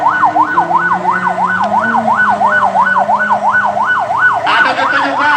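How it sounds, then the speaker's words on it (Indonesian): A village ambulance in a protest convoy on Lombok sounds a loud, continuous wailing siren that sweeps steadily up and down, with vehicle engines rumbling underneath throughout. "Ayo ambulan desa Lampendaya, silakan jalan."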